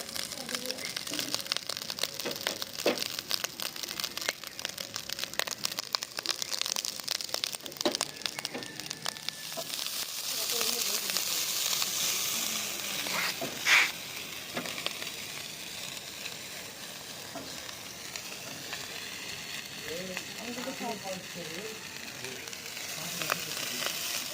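Spice masala for fried rice sizzles and fries in a hot pan with a steady hiss, broken by occasional stirring scrapes, while someone speaks over it.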